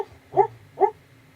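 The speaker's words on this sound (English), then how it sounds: "my pupper is going heckin' nuts in his sleep." A sleeping puppy lets out two short, soft whimpering yelps about half a second apart, close and quiet, with near silence between and after them.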